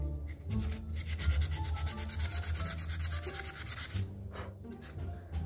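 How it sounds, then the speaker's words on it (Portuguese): Sanding the painted parts of an airsoft gun by hand, a steady raspy rubbing that continues close up for several seconds with no talking. "já dei uma lixada aqui mais ou menos"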